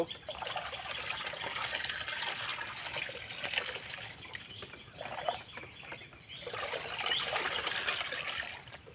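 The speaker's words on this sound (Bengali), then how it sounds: "সুন্দরভাবে পানিটা গুলায় দেব।" Water is stirred with a dissolved Gumboro vaccine for broiler chicks, giving a soft, continuous sloshing and trickling that swells in uneven bursts, with faint chick chirps in the background.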